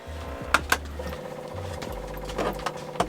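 12V Coolavan air conditioner louvers opening inside a camper van: a soft mechanical whirring with a few light clicks and ticks, steady and close by, without voices.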